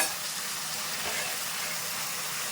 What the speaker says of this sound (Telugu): మనకు ఆయిల్ పైకి తేలేంత వరకు మనకి వేగాలండి అల్లం వెల్లుల్లి పేస్ట్